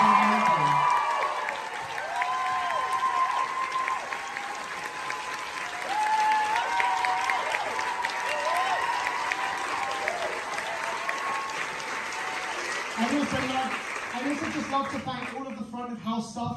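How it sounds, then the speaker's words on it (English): A theatre audience applauds steadily at the final show of the musical Bonnie & Clyde in London, the sustained clapping filling the room from start to finish with a few scattered cheers and whoops. "I just want to give a huge round of applause to everyone who works backstage on this show"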